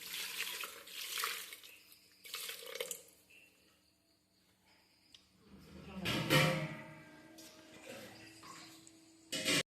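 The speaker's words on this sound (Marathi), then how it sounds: "पाणी आईने घातलंय, मीठ घालून घेतलेलं आहे." Water is poured into a pressure cooker in a home kitchen, with splashing bursts that come and go while people talk nearby.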